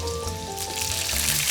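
Pickled chilies, ginger and Sichuan peppercorns stir-fry in a wok, a steady close sizzle with soft crackle that holds level throughout, a faint tonal hum underneath, with no talk.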